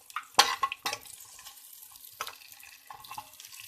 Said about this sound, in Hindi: प्याज और शिमला मिर्च ऐड करके इनको सौते करेंगे।